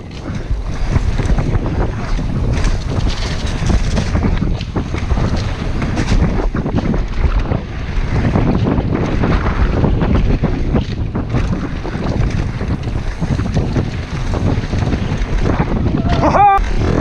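Steady, loud wind roar buffets the microphone of a mountain biker riding and jumping the road gap at Snowshoe Bike Park, continuous throughout with a brief shout near the end.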